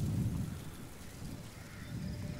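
In Metal Gear Solid V: The Phantom Pain, rain pours steadily while low thunder swells and recedes in slow rumbling waves, fairly quiet and with no voices.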